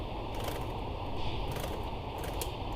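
A sewing machine runs a simple straight stitch through a coin pouch lining, giving a steady, close mechanical whir with a faint rhythmic clatter that holds unbroken throughout, with no voices.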